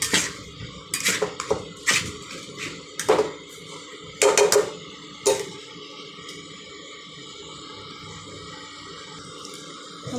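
Curry being stirred and fried in a pan: loud metallic scrapes and clatters come in bursts during the first half, then give way to a quieter steady sizzle.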